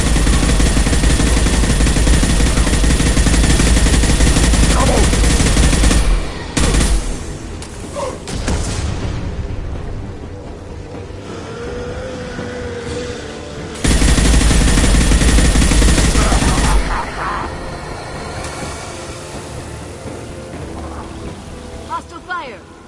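Hostile gunfire in Mass Effect 2 comes in two loud sustained bursts of automatic shooting with booms, separated by quieter stretches where voices speak over the combat ambience.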